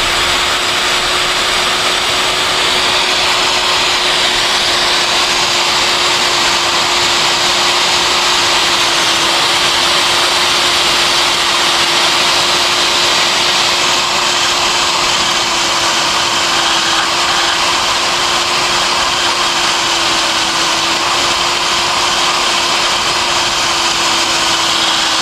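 Steady high-pitched whine of a rotary tool polishing a motorcycle cylinder head, running continuously at constant speed for the whole stretch with no breaks and no voices.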